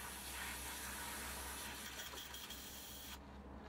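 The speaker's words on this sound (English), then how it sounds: "Spray that through. Bit of Vallejo airbrush cleaner." An airbrush sprays Vallejo airbrush cleaner through its nozzle in a close, continuous hiss that cuts off abruptly near the end, leaving a quieter background hum.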